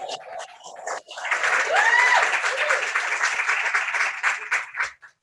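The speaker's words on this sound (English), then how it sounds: "you can clap for Jake" An audience claps for a man named Jake at an announcement event, a steady wash of applause lasting several seconds after a brief spoken lead-in.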